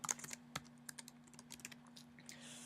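Fast, irregular keystrokes clatter on a computer keyboard while someone types course names into form fields, a close, quiet run of separate clicks with a low steady hum underneath.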